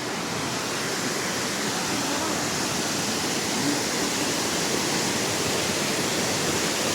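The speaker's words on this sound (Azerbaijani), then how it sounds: "Məncə çox gözəl bir şəlalədir." The Manjuna waterfall in Turkey, falling from about 950 metres, roars as a dense, steady broadband rush, loud and unbroken throughout.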